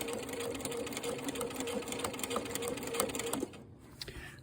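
Sewing machine stitching quilt binding, a steady close rapid hum and needle patter for a few seconds before stopping abruptly, leaving near quiet.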